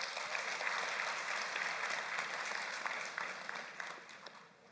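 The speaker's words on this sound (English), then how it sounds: "Professor Namwandi, a thunderous round of applause." Sustained audience applause at a university graduation ceremony, a steady dense wash of many hands clapping that fades slightly toward the end, heard from a distance in a large hall.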